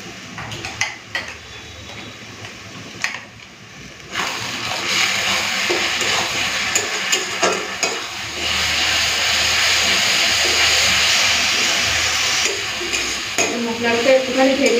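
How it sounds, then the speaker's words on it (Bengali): Browned onions fry with ginger, garlic and green chili paste in a pan, giving a loud, steady sizzle with scattered stirring clatter. The sizzle swells after a quieter opening. "মশলাটা একটুখানি ভেজে নিই, তারপরে গুঁড়ো মশলা দেবো।"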